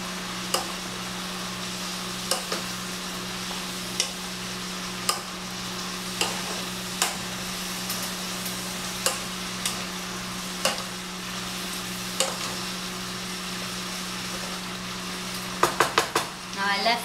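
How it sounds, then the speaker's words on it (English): Cabbage with allspice frying in a pan while being stirred, a steady sizzle over a constant low hum, with regular spoon knocks against the pan and a quick cluster of clatters near the end. "And then you just wanna give it a stir."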